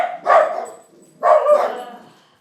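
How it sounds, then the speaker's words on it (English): A dog barking twice, two loud, close barks about a second apart, each trailing off, with no talking over them. "The dogs are barking."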